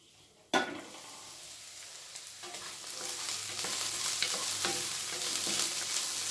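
Peas fry in a hot pan after a sharp clatter at the start, then a steady, building sizzle with scraping stir strokes throughout, close and fairly loud.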